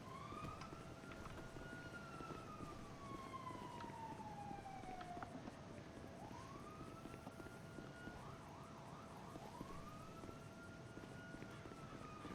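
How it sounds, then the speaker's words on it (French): Police sirens wail nearby in the GTA V video game, a rising and falling tone that sweeps slowly and then switches to a faster yelp over a constant noisy background. "on a entendu des sirènes pas loin"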